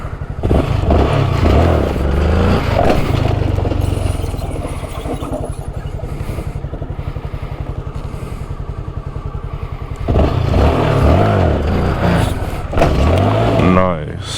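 Honda Grom motorcycle engine revving and idling close by during wheelie practice, rising in loud bursts at the start and again near the end with a steadier putter between, while people talk over it.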